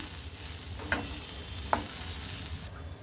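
Grated coconut being stirred into chana dal sundal in a pan, a quiet, steady scraping and light sizzle with two brief sharper scrapes, no voices.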